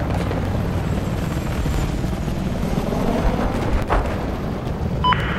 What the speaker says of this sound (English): I got eyes on an enemy chopper.